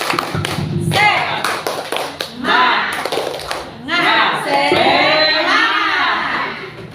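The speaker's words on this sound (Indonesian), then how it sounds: "Tepuk semangat." Indonesian teachers at a training session performing a rhythmic 'tepuk semangat' clapping cheer, patterned claps in quick bursts mixed with group chanting and voices, loud and close.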